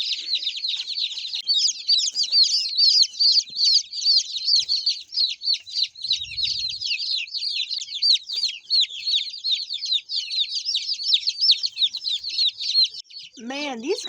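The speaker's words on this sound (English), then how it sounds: "So now in this side of the brooder, we have 15 of our newest hatched chicks, the last chicks of the year" Fifteen newly hatched meat chicks chirp nonstop in a brooder, a dense, loud chorus of high peeping with a brief lower sound near the end.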